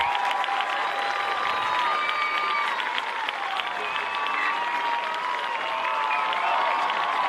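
A stadium crowd at Hofstra roars and applauds after a two-run home run in a softball game, a sustained, dense wash of cheering and clapping that holds steady throughout.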